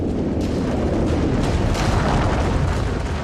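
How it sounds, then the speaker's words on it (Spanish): A cosmic explosion's energy strikes the ground as a continuous, loud roaring rumble, dense and sustained throughout without distinct separate blasts. "La energía de la explosión cósmica llega al suelo"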